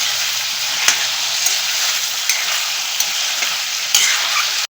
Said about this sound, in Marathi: असंच यात चांगलं एक 5-10 मिनटं चांगलं परतून घ्यायचं हाय फ्लेमवर